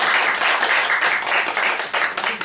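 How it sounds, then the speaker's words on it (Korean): A room full of people clapping together, steady and close, sustained applause without voices. "우리 어머니를 위해서 박수 한번 할까요?"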